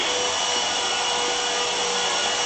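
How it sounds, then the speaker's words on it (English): Sanding on the tailgate of a 1965 Chevrolet truck being restored, a steady, unbroken abrasive whir that stays close and even throughout. "And there they're sanding on the tailgate."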